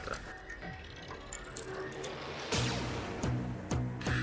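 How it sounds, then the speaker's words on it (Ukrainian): A newspaper printing plate machine produces a 0.3 mm metal form sheet from a page layout, giving steady mechanical whirring with sharp, regularly repeating clunks and ratchet-like clicks that grow louder in the second half. "Видавничий принтер з макету створює лист форми."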